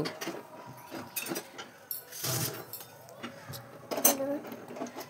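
Spoon scraping and clinking against a pan while halua made from water chestnut (singara) flour with cashews and raisins is stirred, giving irregular metallic taps and scrapes under a continuous voice.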